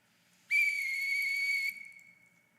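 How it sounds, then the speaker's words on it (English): A single sharp, high-pitched whistle blast at a city council meeting, held steady for about a second, loud and close, then trailing off into room echo. "I'm blowing the whistle"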